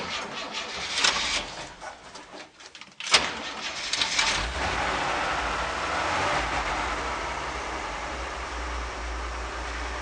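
A 1973 Chevrolet P10 step van's carbureted 292 inline-six cranks briefly, catches with a sharp burst, then settles into a steady, low, fairly quiet idle that holds to the end.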